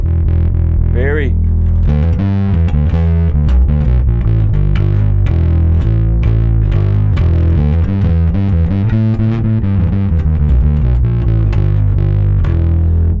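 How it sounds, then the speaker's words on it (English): A bass guitar plays through a SansAmp GED 2112 preamp with heavy distortion blended in, giving a loud, gritty riff with punchy low end and sustained notes. "when you blend in the heavy distortion that it definitely brings in a certain sort of low end extra wallop"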